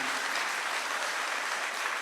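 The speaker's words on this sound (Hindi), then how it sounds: "जोरदार तालियों से इनका स्वागत है।" Steady, dense applause from a large crowd at a Congress party gathering welcoming Rahul Gandhi, continuous and loud throughout without a break.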